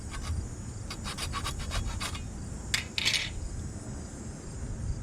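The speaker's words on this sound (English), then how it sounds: "taking the hacksaw at different angles and sort of sawing down little bits like this" A hacksaw cuts short strokes at shifting angles into wood shaped for an Inuit-style knife handle, giving a quick series of close, dry rasping bursts and a couple of brighter scrapes with pauses between them.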